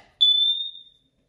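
A Kidde Nighthawk KN-COP-DP carbon monoxide alarm gives its dying low-battery warning: a single loud, close, high-pitched electronic chirp lasting just under a second, heard alone in a quiet room.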